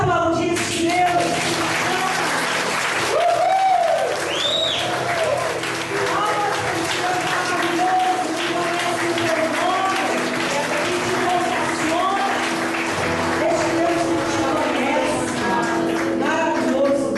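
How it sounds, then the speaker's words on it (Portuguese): A church prayer group congregation applauds steadily throughout, continuous clapping with a singing or preaching voice and crowd sounds over it. "Vamos aplaudir esse Deus."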